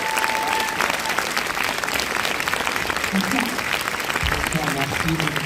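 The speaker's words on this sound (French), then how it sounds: "merci de l'applaudir" A cinema audience at a film premiere applauds to welcome Kev Adams, a loud, dense and continuous roar of clapping with some voices and cheers mixed in.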